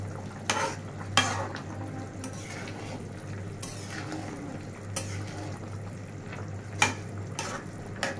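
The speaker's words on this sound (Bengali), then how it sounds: "আবার একটু নেড়ে চেড়ে দিচ্ছি।" Shing fish curry with beans and potato being stirred in a simmering pan, soft sizzling and bubbling under a steady hum, with a few sharp scrapes and knocks of the spoon against the pan.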